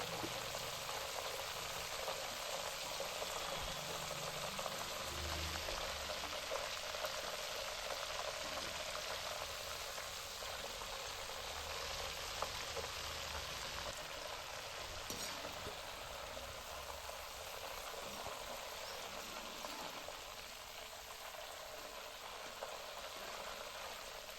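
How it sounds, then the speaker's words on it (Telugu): Onions frying in hot oil for Telugu kara boondi, a steady dense sizzle and bubbling that holds at an even level throughout, close and continuous with no talking. "ఉల్లిగడ్డలు కూడా ఆ నూనెలనే ఫ్రై చేసుకోవాలి"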